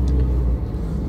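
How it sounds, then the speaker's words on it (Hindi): A 2015 Toyota Yaris with a 1.5-litre engine runs close by, giving a steady, heavy low rumble that holds evenly throughout without sharp changes. "सो ये है गाड़ी का स्टार्टअप"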